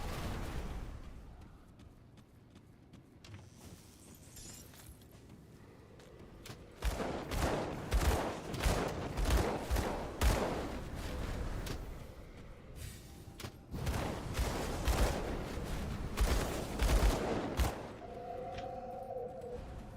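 Rapid gunshots fired at ghosts in the video game Grim Dawn, quiet at first, then loud close bursts of repeated shots with thuds that come in two intense volleys and stop near the end.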